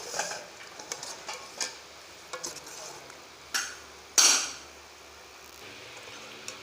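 A spoon scrapes and clinks against a pan of tarka kaddu (spiced pumpkin) with green coriander in a few separate strokes, with a soft sizzle beneath and one sharper knock near the end.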